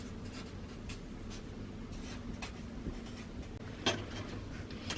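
Pen or marker writing 'front' on a paper bodice pattern piece during plus-size sewing pattern making, a soft steady scratching close by with a brief louder stroke near the end.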